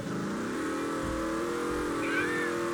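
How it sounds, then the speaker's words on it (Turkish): A car arrives in the Roblox video game, its mid-pitched engine humming steadily with a slight rising rev, close and alone for a couple of seconds. "Aman geldi bu arabamız."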